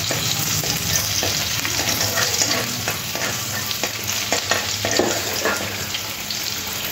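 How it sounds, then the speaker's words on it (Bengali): Minced garlic frying lightly in a little reserved oil for restaurant-style chili chicken: a steady, fairly loud sizzle runs throughout, broken by scraping stirs of a spatula against the pan. "এই তেলের মধ্যে দিয়ে দেবো রসুন কিমা, একটু হালকা ভেজে নেব"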